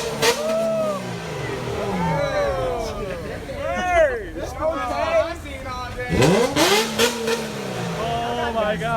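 A Mercedes S600 V12 with an aftermarket exhaust revs hard in repeated rising and falling blips on a city street, loud and close, while people shout and chatter around it.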